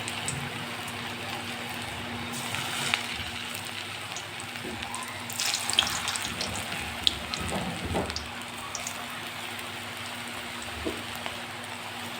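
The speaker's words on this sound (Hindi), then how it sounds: "अब मैं ये देखें पकोड़े डाल रही हूँ इसके अंदर" Pakoras frying in hot oil in a wok (kadhai), a soft steady sizzle and crackle with a few louder pops and spatters as the batter goes in, fairly quiet and without talk.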